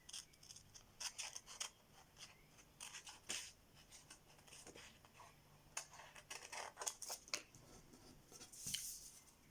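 Scissors cutting paper for a strawberry-themed craft, a series of crisp snipping strokes in an irregular rhythm, close and moderately quiet with no talking.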